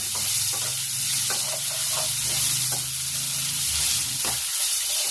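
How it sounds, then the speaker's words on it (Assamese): Garlic and onions fry in a pan with a constant loud sizzle. A spoon scrapes and stirs through them in occasional sharp taps and strokes, close by, with no talking. "এতিয়া মোৰ নহৰু আৰু পিঁয়াজ ভাজি কৰা হৈ গ'ল"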